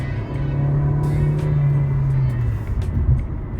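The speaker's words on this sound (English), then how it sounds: "this is what a 4-speed automatic sounds like." An MG car with a 4-speed automatic gearbox accelerating, a steady loud engine drone that rises in pitch, then dips at a gear change before climbing again, heard close with continuous road rumble.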